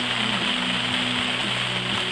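Steady rain falling outdoors near a creek, a continuous dense hiss of drops with a faint low hum beneath, no voices.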